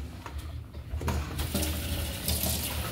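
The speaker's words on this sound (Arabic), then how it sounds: "صب لها طاسه مي" A bowl of water poured into a pot of Kurdish Afrin-style borani soup, a steady close splashing gush lasting a few seconds.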